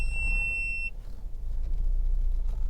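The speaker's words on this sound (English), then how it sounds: "I'm not sure what the beep was for a Honda CR-V 2-litre EX" A short electronic chime or beep rings inside a Honda CR-V 2.0 i-VTEC EX, holding steady for under a second over a low rumbling cabin background before cutting off.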